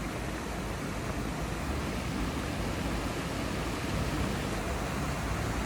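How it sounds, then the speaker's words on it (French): Small cascades tumbling into little pools along a river below a parked camper van give a steady, broadband rush of water, close and unbroken throughout with no voices. "Juste en dessous, j'ai plein de petites cascades avec plein de petits bassins."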